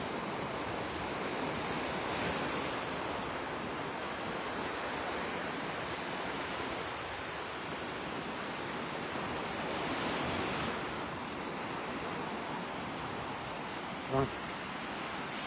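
Ocean surf washing onto a quiet beach in North Naples, Florida at daybreak, a steady, soft broadband roar with gentle swells in intensity and one brief tonal blip near the end.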